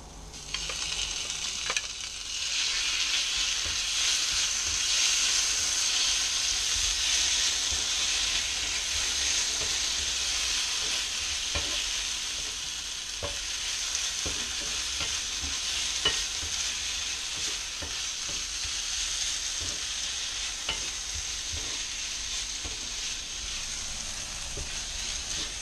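Onions fry with bhuna masala in a pan, giving a continuous loud sizzle and hiss over about twenty-five seconds, with scattered scrapes and clicks from stirring.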